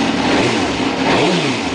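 A 2005 Suzuki GSX-R750 motorcycle engine, loud and close, revs twice in quick swells that rise and fall over a constant roar.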